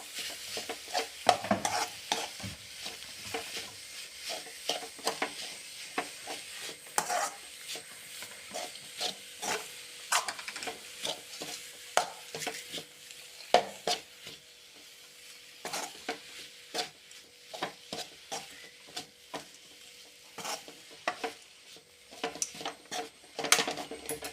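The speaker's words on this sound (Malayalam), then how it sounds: "നല്ലപോലെ ഇത് ഇളക്കി ഒന്ന് ചേർത്ത് കൊടുക്കാം" Spoon stirring chicken momo filling mixed with mashed potato in a pan, a steady run of scraping, rubbing strokes with a faint sizzle underneath, close and moderately quiet, no talking.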